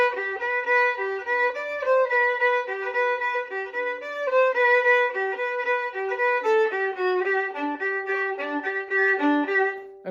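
A solo violin plays the first violin part of Vivaldi's alla rustica, a clear, close melodic line of quick successive bowed notes that runs continuously with steady loudness, no talking.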